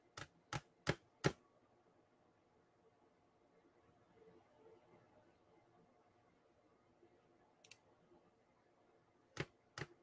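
A computer mouse clicking: four sharp clicks in quick succession, then a quiet pause with faint background noise, then a few more isolated clicks near the end, all close and crisp.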